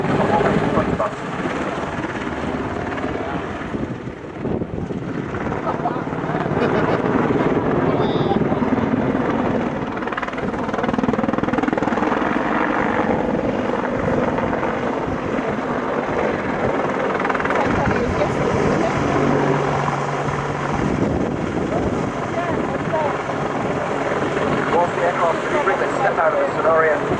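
An Apache attack helicopter performs a display manoeuvre at an air show, its rotor and engine roar sustained and fairly loud, with a public-address announcer speaking over it.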